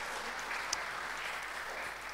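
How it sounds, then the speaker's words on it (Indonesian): A church congregation in Yogyakarta applauds during a sermon, a steady, even patter of clapping at moderate volume that holds throughout. "Tepuk tangan dulu buat ini, mantap."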